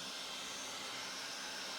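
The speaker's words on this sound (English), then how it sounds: "that hairdryer was absolutely terrible to listen to" A steady, loud rushing whoosh of a hair dryer blowing at full power, continuous and close, with no voices.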